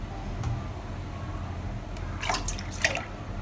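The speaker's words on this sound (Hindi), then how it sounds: "ये दो मग भर कर मैंने डाल दिए हैं मिल्क" Milk poured from a mug into a cooking pan, giving a faint, brief splashing and trickling sound against a quiet kitchen background, with no one speaking.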